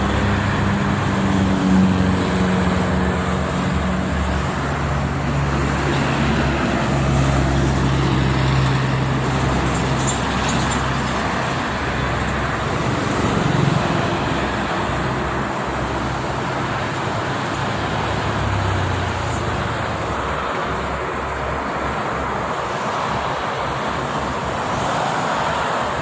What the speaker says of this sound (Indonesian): Tengah hari macet-macetan.